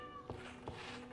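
Two short meows from a cat in the video game Minecraft, spaced about a third of a second apart over a faint steady background tone.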